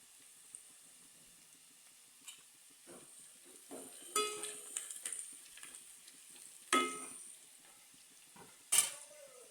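Browned onions stirred with turmeric in a pan, a quiet low sizzle broken by a few sharp scrapes and clinks of the spoon against the metal.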